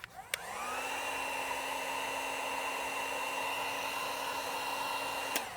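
A heat gun blows steadily on vinyl wrap on the trunk of a Tesla Model 3 Highland, its fan spinning up with a click and holding an even, close whirring hiss, ending with another click.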